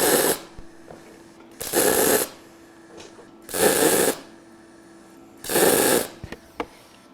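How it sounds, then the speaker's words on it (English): MIG stitch welds on thin-gauge metal come as four short separate bursts of loud crackling hiss, each about half a second long, with quiet pauses and faint clicks between them. "I'm going to show you guys doing a couple little stitch welds"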